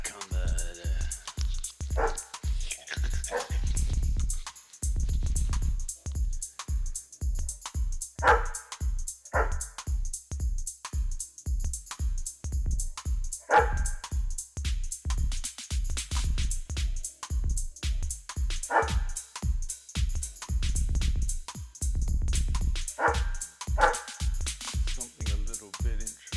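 Dogs bark over and over in a steady, insistent run of loud yaps that continues for the whole stretch, close to the microphone and almost without pause.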